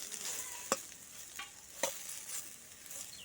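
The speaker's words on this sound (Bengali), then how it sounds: "আর যে বড় টুকরোটা আছে সেগুলো কিন্তু একটু ভালো করে ভাজতে হবে" Eggplant pieces frying in a covered pan with little oil, a soft continuous sizzle punctuated by a few sharp spatula scrapes and stirs, fairly quiet and close.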